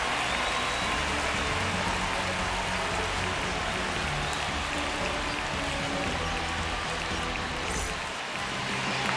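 The stadium crowd at a Mets vs Phillies opening day baseball game makes a dense, steady roar of cheering and chatter throughout, loud and continuous with no distinct voices standing out.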